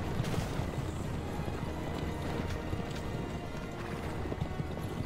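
Horses galloping in Assassin's Creed: Revelations, a dense, steady run of clip-clopping hooves close up across the whole stretch, with an occasional whinny in the mix.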